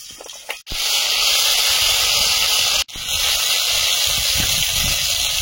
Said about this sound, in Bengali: আলু ভাজার তেলে মাংসটা রান্না হয়ে যাবে। মাংসে কাঁচা তেল মাখিয়ে নিয়েছি, আদা রসুন বাটাটা দিয়ে দেবো।